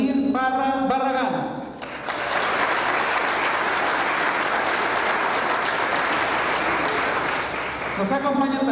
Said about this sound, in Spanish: Fuerte el aplauso para el exdiputado local, licenciado Vladimir Barra Barragán.